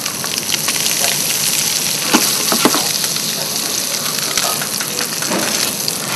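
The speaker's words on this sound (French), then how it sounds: "L'huile ne va pas rentrer à l'intérieur, par contre elle va permettre de bien mener la cuisson." Whiting fillets frying in hot oil with added butter give a steady, close sizzle with crackles and small pops, continuous throughout and with no talk over it.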